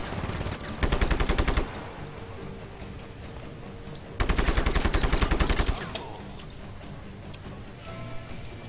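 Two long bursts of rapid automatic gunfire from the video game Just Cause 3, loud and close, separated by a quieter stretch with faint background game noise.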